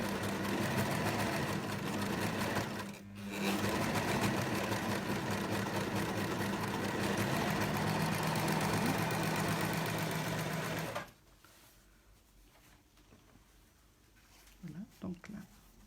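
Overlocker serger stitching lace trim with a wide overlock stitch runs as a loud, steady, fast mechanical whir for about eleven seconds, then stops, leaving quiet room noise with a few faint clicks.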